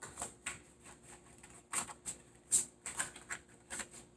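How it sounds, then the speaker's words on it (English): A tarot card deck being shuffled by hand gives soft, papery riffles and flicks in short irregular bursts, quiet and close, with no talking. "I'm shuffling through this deck"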